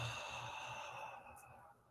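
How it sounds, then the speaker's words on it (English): A long, deep exhale after a slow inhale through the nose during guided meditation, a soft breathy rush heard close up that fades gradually toward silence, with no talking. "Another good mountaintop breath. In through the nose. And exhale."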